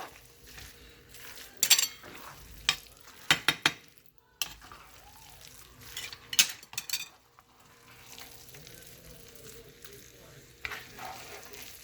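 Sticky rice mixture for bringhe, a Kapampangan delicacy, being stirred in a pan: scraping and sticky squelching strokes with sharp clinks of the utensil against the pan, irregular and close, at a quiet level.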